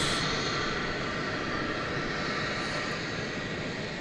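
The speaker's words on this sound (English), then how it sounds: "We kind of caught the tail end of that flight coming in from Mexico City at 737-800" An American Airlines Boeing 737-800 arriving from Mexico City at Dallas Fort Worth airport roars loudly and steadily as a broad jet rumble, close by and uninterrupted.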